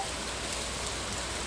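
Rain in the Stardew Valley video game, a steady, even hiss of rainfall with no breaks, fairly loud and alone.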